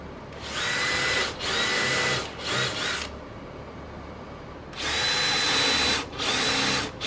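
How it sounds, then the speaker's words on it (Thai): A power drill bores holes while a miter saw table is being built, sounding as several bursts of high whining motor noise, each a second or so long, close and loud with brief quiet gaps between them. "อีกรูเลยนะไหน ๆ ก็เจาะแล้วอ่ะ เจาะให้หมดเลย"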